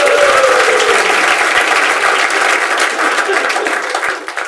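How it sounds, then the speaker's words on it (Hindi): Stand-up comedy crowd applauding for an audience member named Saket, loud dense clapping that stays strong for several seconds before thinning out. "एक बार साकेत के लिए तालियां दो"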